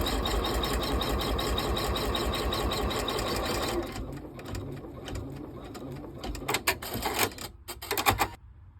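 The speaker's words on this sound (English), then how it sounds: "With your hoop back on the machine, stitch out step 6, which will tack the fabric on the back" An embroidery machine tacks down lining fabric on the back of a zipper purse, fast rhythmic stitching for about four seconds, then stopping, followed by faint handling and a few sharp clicks and bumps.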